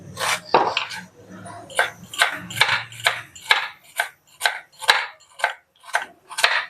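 A knife chops a washed, peeled onion on a board, about a dozen sharp, evenly spaced cuts that come close and clear, with a voice talking softly early on.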